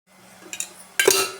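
A spoon stirs ginger garlic paste in a metal pan, giving a few soft scraping strokes followed by a sharper clinking scrape of metal on metal, close up and brief, with no talking.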